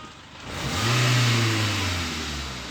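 A car engine revving after its throttle body was cleaned, rising from idle to a strong mid-range rev and easing back down, loud and close with no talking.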